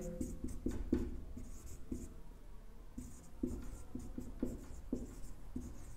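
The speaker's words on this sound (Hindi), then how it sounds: "तो यहां बी स्क्वायर की वैल्यू लिखे तो बी स्क्वायर की वैल्यू लिख देते हैं।" Chalk or marker strokes on a classroom board during a class 12 maths lesson, with a quiet series of short taps and scratches in irregular bursts that are close and faint.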